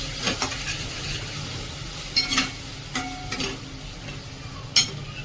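Spice paste with coriander powder and kitchen king masala sautéed in oil in a pan, a soft continuous sizzle broken by a few sharp spatula scrapes and taps.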